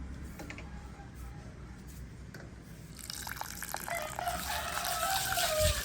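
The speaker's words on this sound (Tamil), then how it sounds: "இதை இப்படியே 2 தண்ணியில் வடிவாக கழுவுவோம்." Two handfuls of rice being washed by hand in a bowl of water: soft sloshing and trickling, growing louder and more splashy after a quiet start, close and alone.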